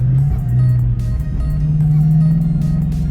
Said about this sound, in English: I think I'm gonna try a little acceleration here. We're gonna downshift